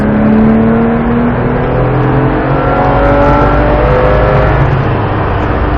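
Porsche 997 launching and accelerating hard on a track, the engine's loud rising whine climbing continuously through the revs, close and uninterrupted.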